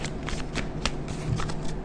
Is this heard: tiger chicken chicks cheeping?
no